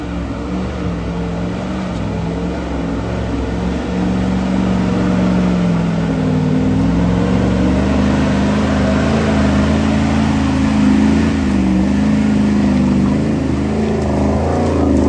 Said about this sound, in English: Some of them are just good old full throttle and lots of wheel spin.